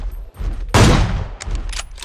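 A sharp, loud burst of gunfire from the mobile battle royale game PUBG Mobile, a single heavy crack with a decaying tail followed by a few fainter follow-up shots.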